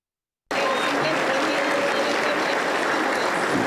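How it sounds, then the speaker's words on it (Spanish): Congregation applauding during a church worship service, a dense burst of clapping that starts abruptly after a short silence and holds steady and loud to the end. "Un aplauso para el Señor Jesús."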